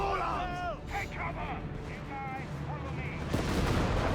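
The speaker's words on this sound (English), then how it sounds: "Second MU-54 being bombarded here by Calyon's ever busy mortar crew." Mortar bombardment in Company of Heroes 3, a World War II strategy game, pounds positions in the North African desert: muffled booms and crackling impacts under scattered soldier chatter, ending in a louder blast near the close.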